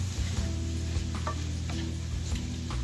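Onion powder being stirred into a sizzling sloppy joe filling in a pan, with soft steady scraping and frying crackle, fairly quiet and close.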